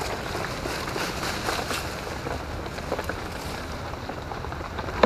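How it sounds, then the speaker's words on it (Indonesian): Heavy rain falls in a bamboo forest, a dense, steady wash of hiss and patter across the whole stretch with no voices and a small knock at the very end. "Wah, hujannya gede."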